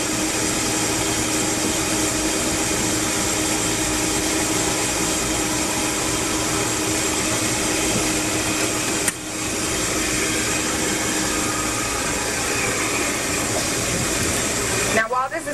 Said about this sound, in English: the reason you can heat things up in a Vitamix and you can't do it in a regular blender, that's the speed of a blender